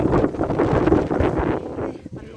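Strong winter wind buffets the microphone outdoors in a garden under a Grevillea tree, a heavy, rumbling roar that gusts and fades slightly toward the end, with no speech.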